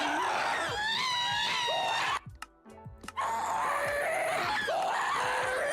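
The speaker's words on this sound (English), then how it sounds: "Is this Ghast Scream?" A ghast from Minecraft's GregTech New Horizons modpack gives loud, piercing wailing screams, several rising and falling cries in succession, with a brief break midway before the shrieking resumes.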